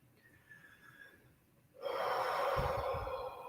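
During a guided meditation, a single deep breath is drawn in sharply and audibly, starting faint and then swelling into a loud, sustained airy inhale close to the microphone.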